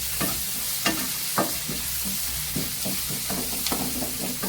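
Eggplant and drumstick pieces sauté in a pan with turmeric and rock salt, a steady soft sizzle broken by repeated scraping strokes of a spoon stirring the vegetables, close and continuous.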